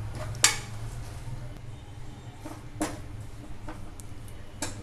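Vada batter with baking soda is mixed in a bowl, giving sparse clinks and light taps of a utensil against the bowl at irregular intervals over a quiet background.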